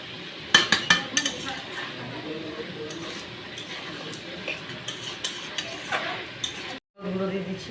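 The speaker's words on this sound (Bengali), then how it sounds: "আবার নেড়ে নিচ্ছি।" Mutton masala with garlic, ginger and onion paste is stirred in a metal pot, a spoon clanking and scraping against the sides in quick bursts with a steady sizzle beneath and a brief cut near the end.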